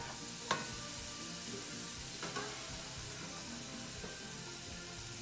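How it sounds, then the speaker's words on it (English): Steady, close sizzling of seasoning frying in hot oil, with a few sharp pops and crackles rising above the constant hiss. "All the seasoning, that's what actually is frying up right now in the oil."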